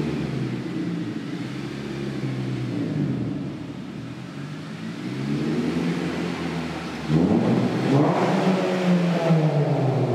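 A 2011 Honda Civic Si fitted with a Skunk2 exhaust drives past with a steady droning engine note, then revs harder near the end, the exhaust rising in pitch and getting louder.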